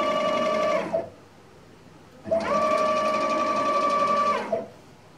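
A NEMA 34 closed-loop stepper motor with encoder runs in two separate bursts, each a loud whining hum that ramps up and then down in pitch, with a short quiet pause between and no talk.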